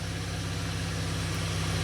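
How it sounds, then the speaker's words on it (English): A 2015 Chevy Camaro with a 3.6L V6 idles at a steady, low, even rumble, close and unchanging for the whole short stretch, with no voices. "We're going to start the engine"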